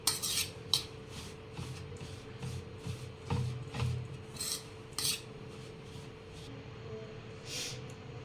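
A spoon stirs dry green garlic and chilli chutney in a bowl. It makes scattered scraping, clinking strokes at close range against a quiet room hum.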